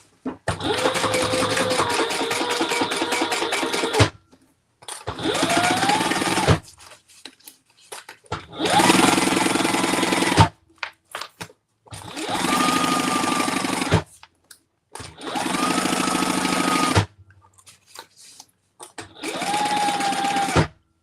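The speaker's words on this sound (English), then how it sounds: "I am going to just sew these together, 1/8 of an inch." A sewing machine stitches bag pieces together with a 1/8-inch seam, running in six loud, close bursts of steady whirring separated by brief pauses.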